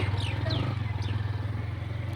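A nearby motorbike engine idles or runs at low speed with a steady, throbbing pulse. A few faint chirps and clatters sit over the rumble.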